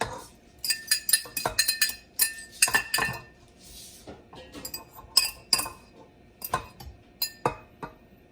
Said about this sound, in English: I'm just stirring that together.